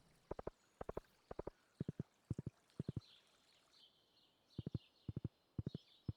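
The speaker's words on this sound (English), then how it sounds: "The fact that this horse is able to go this fast with all the weight that I'm carrying is amazing." Horse galloping in the Stardew Valley video game, a quiet, steady run of rapid triple hoofbeat clip-clops that repeats evenly, briefly pauses, then resumes, with faint background ambience and no talking.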